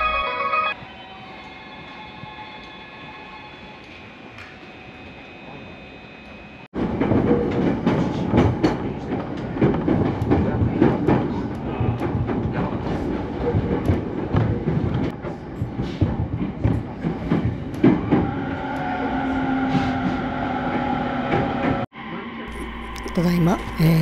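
Local train pulling out of Atami Station at night, starting with a quiet cab hum and tones, then a loud rumbling run with wheel clatter and rail noise before it drops away near the end.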